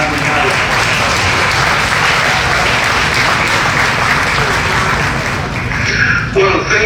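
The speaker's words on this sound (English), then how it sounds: "let me give a round of applause to Kevin Almendares, who created this wonder" Sustained applause from a crowd at a LULAC council scholarship gala honoring Latino leaders, dense and even throughout with a brief voice near the end.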